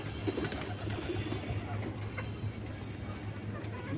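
Newly arrived pigeons with brown and black necks cooing softly in a low repeating hum, faint against a steady background, with no speech.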